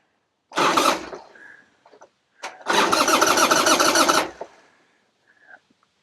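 A Harley Sportster motorcycle engine cranks in two loud bursts of starter grinding, the second longer, close by, without catching and settling into an idle; short pauses and faint clicks sit between the attempts.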